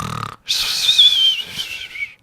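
A voice imitates snoring during a Minecraft livestream: a short rasp, then one long, close, high whistling wheeze that fades out.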